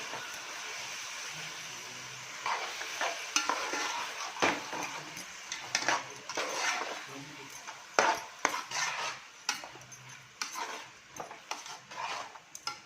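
A paste of green chilli, coriander, ginger and garlic fries in a pan, with a soft sizzle under repeated clinks and scrapes of a metal spoon stirring, close and moderately quiet.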